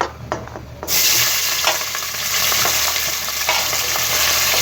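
Capsicum, peas, tomatoes and green chillies hit hot oil in a pan and give a loud, continuous close-up sizzle after a short quieter start, with faint stirring underneath and no talking.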